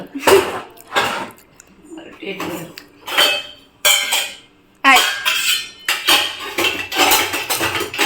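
Small metal dishes and utensils clink and clatter close by in repeated bursts as they are handled and set down.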